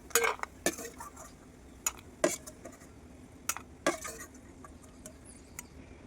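Fried food is moved from a kadai into a bowl, giving sharp metallic scrapes and clinks of a spoon against the cookware in irregular bursts, close and clear with no voices.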